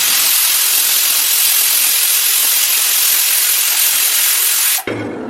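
A pressure cooker cooking chickpea dal lets out a loud, continuous steam whistle that hisses steadily for nearly five seconds, then cuts off abruptly, leaving a faint low hum.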